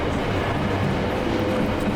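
A freight train rolls through a railway station with a steady, close rumble and a faint rhythmic clatter of wagons throughout.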